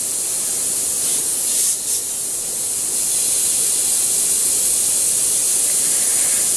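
Steady hiss of compressed air from an airbrush blowing over freshly weathered paint on a model to dry it, a continuous close broadband rush with a slight swell near the two-second mark and no talking.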